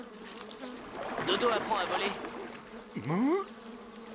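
Cartoon mosquitoes buzz as a whining insect drone that swells and fades, then dives past in a quick swoop, while a character speaks.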